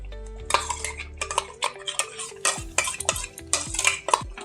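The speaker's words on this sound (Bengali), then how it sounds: "এবার আমি লাস্টে এই পালং আর ধনেপাতার পেস্টটা দিয়ে দেব।" A spoon scrapes and clatters in a pan as spinach and coriander paste is stirred into cooked chicken for palak chicken. Close, rhythmic metallic stirring strokes with a faint sizzle underneath and no talking.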